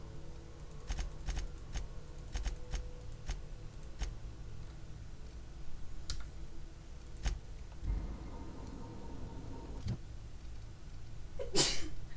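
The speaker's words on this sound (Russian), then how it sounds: "Кто-то чихает." A single sharp sneeze bursts out near the end in the video game The Outer Worlds, following a stretch of quiet, scattered clicks and taps.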